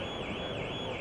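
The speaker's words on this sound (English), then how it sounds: "And there's a car alarm." A car alarm wails steadily on a crowded motor show floor at the 2017 Geneva Motor Show, a continuous loud warbling tone that fills the whole moment with no talk over it.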